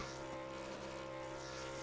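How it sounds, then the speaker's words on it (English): Race truck engine revving on the track at Talladega, a continuous loud droning roar with a slight change in pitch, distant and without talking. "He's revving that engine up."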